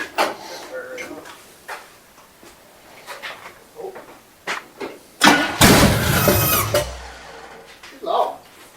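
A Chevrolet C10 truck engine cranks and catches around the midpoint, a loud close burst of starter and engine noise that settles into rough running, preceded by scattered clanks and followed by a short voice.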